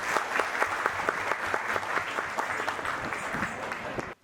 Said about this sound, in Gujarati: એકવાર ફરીથી જોરદાર તાળીથી બતાવું.